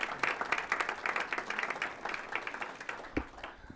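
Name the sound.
applause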